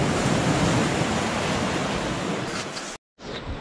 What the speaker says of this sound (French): J'accélère un peu parce qu'il y a une grosse vague qui arrive.